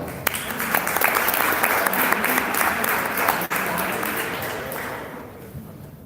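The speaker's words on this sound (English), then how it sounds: "ladies and gentlemen, with a big round of applause" Loud audience applause fills a hackathon pitch event in Tokyo, a dense steady wash of clapping from a large crowd that carries on for several seconds before tapering slightly at the end.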